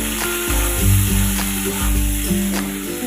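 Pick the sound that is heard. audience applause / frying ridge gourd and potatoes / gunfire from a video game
frying ridge gourd and potatoes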